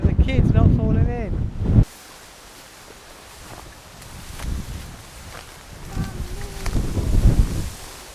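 Strong wind buffets the microphone on a rocky coast, roaring in gusts that rise and fall, with people talking over it at the start and again near the end.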